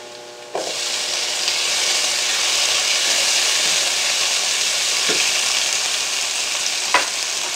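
Tomato dropped into a hot pan of tempeh stir fry with garlic, setting off a loud, steady close-up sizzle and frying hiss, with a few faint utensil taps against the pan.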